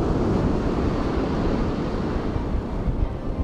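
Sea waves wash onto the shore during a bass fishing outing, a continuous broadband rushing surf that stays loud throughout and is mixed with wind buffeting the microphone, with no voices.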